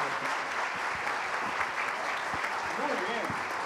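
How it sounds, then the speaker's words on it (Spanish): Steady, dense applause from a conference audience fills the whole stretch at an even level, with a few voices and cheers mixed into the clapping. "Démosle un gran aplauso a Humberto por esta exposición"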